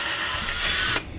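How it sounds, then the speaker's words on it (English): A power drill whirs for about a second as it starts a hole in a part of a Hubsan 501s video drone, the steady broadband whine cutting off abruptly. "So I'm going to go ahead and take the drill here."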